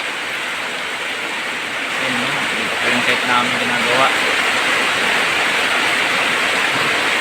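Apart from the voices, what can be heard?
heavy rain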